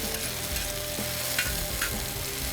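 Onions and peppers stirred in olive oil in a hot pan produce a loud, constant sizzle, with scraping and stirring clatters breaking through now and then.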